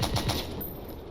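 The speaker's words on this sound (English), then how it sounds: "Let's fire the light autocannon." A light autocannon fires from a vehicle in a video game, three rapid heavy thumps in a quick burst followed by a fading rumble, loud and close with no talk.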